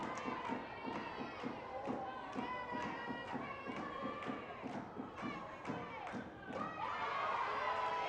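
Spectators at an under-18 girls' national championship softball final between NSW and QLD keep up rhythmic clapping and chanted cheers, heard at a moderate distance in an even, pulsing pattern that grows fuller toward the end.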